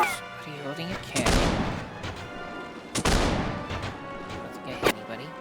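Cannon fire in the video game Warsword 64: two loud blasts with crashing, rumbling tails and a sharper, shorter bang near the end, all under a person speaking.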